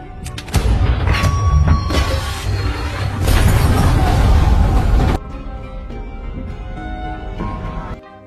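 A CO2 tank explodes in a gangster action film scene, a loud sustained boom and crashing burst with debris, dropping off abruptly into a quieter rumbling tail with scattered clatter.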